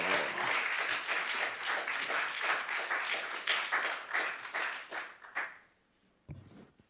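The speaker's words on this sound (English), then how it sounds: "I also appreciate the applause." An audience applauds at a poetry reading event held at a Brooklyn public library, dense clapping that holds steady for several seconds, then thins and fades out, followed by a brief close sound.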